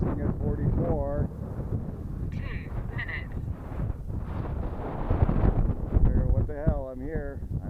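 Strong wind gusting at about 44 outdoors at a flying field for an extreme flight model aircraft, a loud buffeting roar across the microphone that continues throughout, with a voice heard under it.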